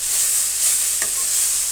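Ivy gourd palya stir-frying in a pan with garlic, a close, steady hiss of sizzling oil with one brief clink of a spoon against the pan.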